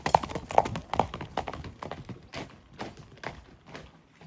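A black horse walks on firm ground, its hooves knocking out an uneven clip-clop close by, with some scuffing and thumps between steps.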